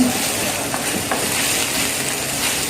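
Garlic and ginger sautéing in a pan as the base for a coconut-milk chicken curry, giving a steady close sizzle and hiss with a few faint stirring clinks, no talking.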